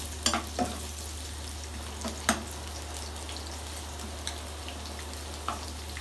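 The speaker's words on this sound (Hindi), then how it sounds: "अब हम डालेंगे गार्लिक और इसको बिल्कुल लाइट सा हमने ब्राउन करना है" Garlic frying lightly in a hot pan, a steady low sizzle with a few sharp crackles and stirring clicks, close and unaccompanied by talk.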